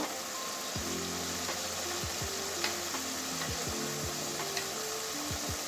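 Fried potatoes sizzling in masala in a pan for a tangra fish curry, a soft continuous sizzle broken by several dull knocks and scrapes of stirring, close and fairly quiet, with no talk.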